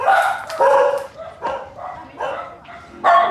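Several dogs barking and yipping nearby in a rapid, uneven run of loud barks, with a few whimpers mixed in and no talking.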